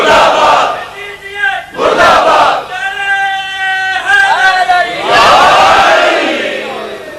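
A large crowd at a religious gathering shouts a loud rhythmic chant in answer to a leader, several bursts of many voices close together.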